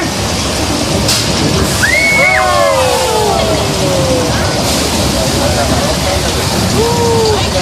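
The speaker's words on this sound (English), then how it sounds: "So that's our flash flood here at Universal Studios." Thousands of gallons of water pour through a flash flood effect on a Universal Studios set, a loud continuous rushing roar with squealing, whistle-like tones sweeping over it midway.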